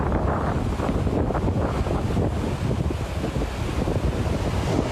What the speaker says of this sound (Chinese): 这两天兰屿的风雨是真惊人